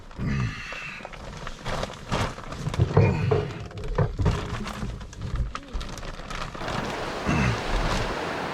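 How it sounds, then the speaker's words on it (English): Waves break on a Lake Superior beach in the morning, surging and receding in uneven swells, with birds cooing and calling over the surf. "It sounds like we're on the ocean, waves are crashing"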